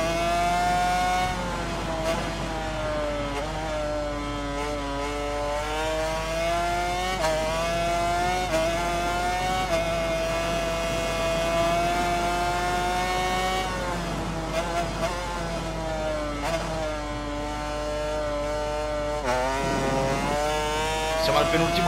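A Ducati racing motorcycle in the video game Ride 4 holds a loud, continuous high-revving engine howl, its pitch climbing and dropping with gear changes through corners over a lap.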